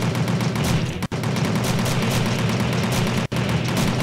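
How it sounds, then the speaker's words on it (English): A video-game machine gun firing in rapid, continuous bursts, dense and loud with crackling reports, interrupted by two brief gaps. "I have a machine gun that shoots 10 bullets at once."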